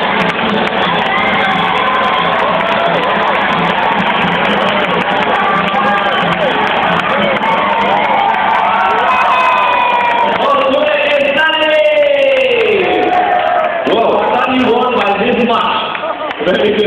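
A crowd at a bird park show in Singapore cheers and shouts loudly and continuously while birds play a ball game, with excited children's voices rising above the din and an announcer talking over it.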